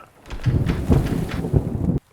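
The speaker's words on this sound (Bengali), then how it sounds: "এত ঝড় বৃষ্টি, তার উপর অন্ধকার।" A thunderstorm with rain over a dark village, heard as a brief rumbling wash of thunder and rain that cuts off abruptly after about two seconds.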